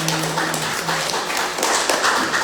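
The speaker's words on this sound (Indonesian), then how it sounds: "Tepuk tangan buat Anda semua." An audience claps in short, dense bursts, loud and close, with faint voices underneath.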